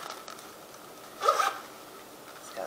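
A zipper on a makeup glam bag being drawn shut, one brief quiet zip near the middle over a faint hum, with no talking.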